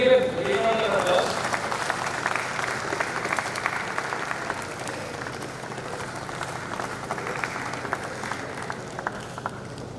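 At a college convocation ceremony, a crowd claps steadily for an award recipient, an even wash of many hands that opens loudest and continues at moderate level with a faint voice under it.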